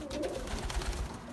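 Young pigeons in a new loft, soft low cooing heard close, steady and murmuring, with no talk.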